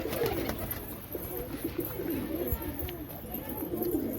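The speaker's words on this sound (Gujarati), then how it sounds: "અને બધા કબૂતર રોટલી ચણે છે" Several pigeons in a breeding loft coo continuously in low, overlapping murmurs while they peck at bread, with faint small taps scattered through the quiet scene.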